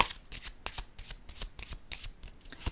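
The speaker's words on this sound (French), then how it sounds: "Je vais piger une autre carte." Playing cards from a deck are riffled and drawn in a quiet room, a run of sharp crisp flutters and flicks repeating unevenly for a few seconds with no voices.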